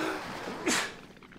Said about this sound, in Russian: Чихну сейчас.